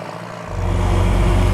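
A loud 1926 Talbot DC engine rumbles into life, its low drone swelling after a brief quiet moment and then holding steady and throaty.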